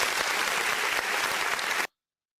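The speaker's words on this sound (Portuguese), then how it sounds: "Uma salva de palmas aqui para o Financial Times." A studio audience gives a round of applause, a steady, full burst of clapping that runs for under two seconds and then cuts off abruptly into silence.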